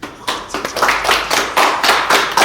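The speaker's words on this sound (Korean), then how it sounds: "편집자분들에게 항상 너무 감사한 마음을 갖고 있습니다. 박수 잘 부탁드립니다." A small group claps at a talk about a YouTube channel and its editors, a few close, sharp uneven bursts of hand claps with brief gaps, sounding like a handful of people rather than a large crowd.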